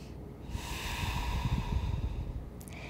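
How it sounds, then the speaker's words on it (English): Slow, deep breathing during a yoga pose: a soft, close inhale and exhale with a breathy, slightly snorting texture, quiet and alone. "And you continue with those deep inhales and exhales, and this is also very calming."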